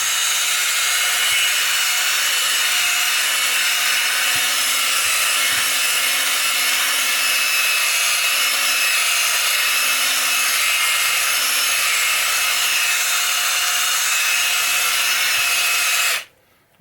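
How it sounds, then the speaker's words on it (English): A high-speed polisher whirs steadily and loudly on a pinball machine part, buffing a groove out of it, a constant bright motor whine running unbroken for about sixteen seconds before cutting off abruptly at the end. "I'm polishing the groove out of it."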